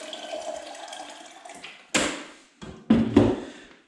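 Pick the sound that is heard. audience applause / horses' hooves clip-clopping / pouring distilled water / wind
pouring distilled water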